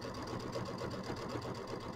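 A sewing machine stitches binding onto a small quilt, its motor humming in a steady, even run of close stitches, nearby and continuous with no talking.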